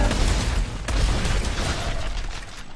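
Loud booming blasts in Dead Space 3, dense and rumbling, with a sharp burst partway through and continuing crackle.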